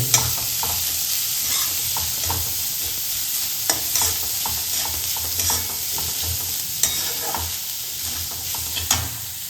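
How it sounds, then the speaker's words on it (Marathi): Chopped onion sautéing in a pan for kurdai bhaji, a loud continuous sizzle with repeated spatula scrapes and clinks, close up with no voices. "मित्रांनो आपला कांदा परततोय"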